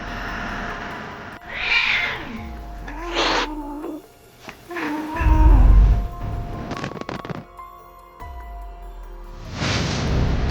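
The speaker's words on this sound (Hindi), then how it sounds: "वह बिल्ली, उसने कैसी आवाज निकाली?" A cat on a dark highway at night makes strange, drawn-out wailing caterwauls in several separate bursts, some rising and bending in pitch, with low rumbling between them and no talking.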